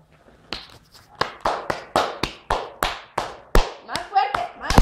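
A young child claps his hands in a run of about a dozen distinct, fairly loud claps at an uneven but steady pace, with a brief adult voice near the end.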